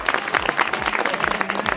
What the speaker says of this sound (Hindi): आदरणीय भैरवराम जी चौधरी साहब MLA साहब के लिए 14 तालियों का स्वागत करें।